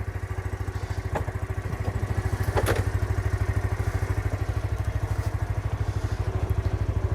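A motorbike engine idles steadily while warming up from cold, a close, continuous low pulsing throb with a faint clatter and no talk over it.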